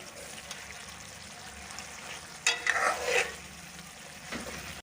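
Beef karahi cooking down in a pan with a soft background sizzle, then a sharp burst of louder crackling as ginger is added and stirred in, which fades back to a gentle simmering hiss.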